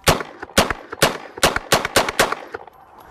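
Outdoors, a gun fires cheap ammunition in about eight loud, sharp reports at uneven intervals, each with a brief ringing echo.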